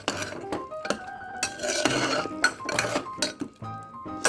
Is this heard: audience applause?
no